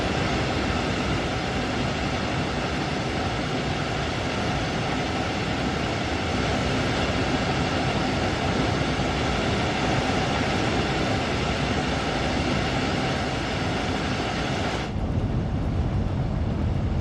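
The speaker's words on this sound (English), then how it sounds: "this is like a real fast train" A fast GWR train runs at speed in Train Sim World 2, a loud continuous rolling roar with rail rumble that holds steady before cutting sharply thinner near the end, with no talk.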